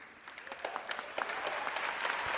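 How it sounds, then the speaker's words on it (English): Scattered applause from an audience at the Oscars ceremony, a scattering of separate claps building into a steady patter over a couple of seconds, moderately distant and with no speech over it. "these are like scattered like claps"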